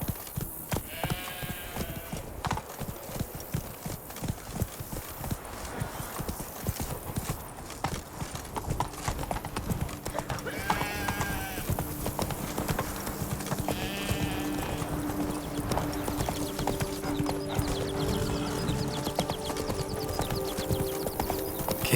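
Roach the horse trotting in The Witcher 3: Blood and Wine, a steady clip-clop of hooves running throughout over ambient game music and background sound, with no talk.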